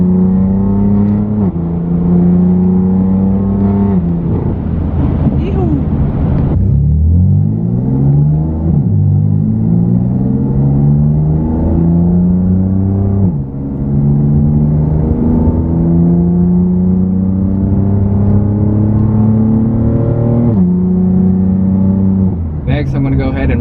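A BMW F80 M3 with a catless exhaust and single mid pipe revving and pulling through gears, loud droning exhaust note climbing steadily with pitch drops at each shift, heard from the cabin.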